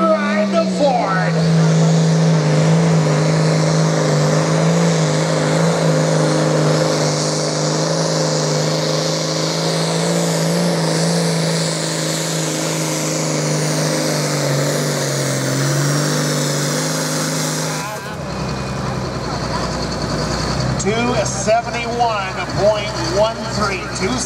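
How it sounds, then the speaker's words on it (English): A Ford pulling tractor's engine spools up at a tractor pull, a loud sustained drone holding a steady pitch for most of the stretch, then dropping away into a rougher, more broken rumble with crowd noise and announcer speech over it. "Spooling up the power, getting ready to ride the Ford."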